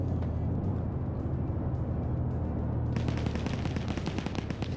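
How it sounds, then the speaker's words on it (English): Rapid autocannon fire in a wartime video game, a dense continuous stream of close, heavy shots that grows sharper and more percussive partway through, over a steady low rumble. "Autocannon finishes him off."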